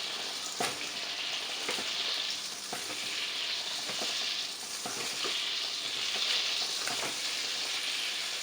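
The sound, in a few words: chicken pieces frying in oil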